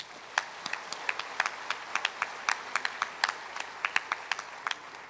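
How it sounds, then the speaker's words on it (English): Scattered, uneven handclaps from a small number of audience members at the closing ceremony of the ninth World Urban Forum (WUF9), sharp individual claps over a quiet room, steady and fairly close, with no voices. "Let's give them a round of applause."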